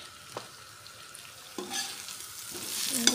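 Jackfruit dish with turmeric being stirred in a pan, soft scraping strokes over a light sizzle that swells louder toward the end, no talking.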